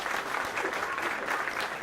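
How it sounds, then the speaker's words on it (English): A crowd applauds at an election-night results event for the Bexar County judge race and Texas primaries, giving a brief burst of steady, even clapping that sounds somewhat distant and muffled. "Let's give them a round of applause."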